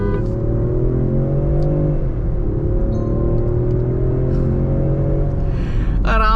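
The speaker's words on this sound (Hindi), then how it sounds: "आप आई होप कैमरे में वो साउंड जो आ रही है इंजन की, एग्जॉस्ट की, वो आ पा रही हो कैमरे में" A Range Rover Sport in dynamic mode accelerates hard, its engine and exhaust giving a loud, near, droning tone that climbs and then levels off, heard from inside the car.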